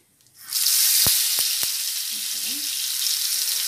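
Brinjal drops into hot oil with mustard seeds and salt, bursting into a loud, steady hiss of frying that starts suddenly and keeps sizzling, with a few sharp clicks and a brief faint voice-like sound in the middle.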